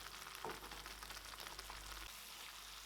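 Ground tomatoes sautéing in oil give a soft, low, continuous sizzle with faint bubbling and a couple of light stirring touches, quiet and without speech.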